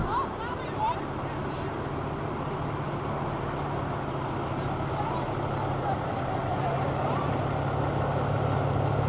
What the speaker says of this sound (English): This fire truck here, the fire apparatus, emergency vehicle is waiting.